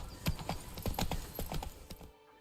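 Roach the horse clip-clops along in The Witcher 3: Blood and Wine, a steady close rhythm of hoof strikes that stops abruptly near the end.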